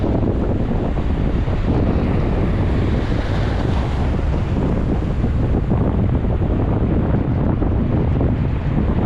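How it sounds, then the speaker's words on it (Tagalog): Strong wind buffets the microphone in a continuous roar on a small island, with a steady rumbling rush lasting throughout and no voices. "Medyo mahangin ah."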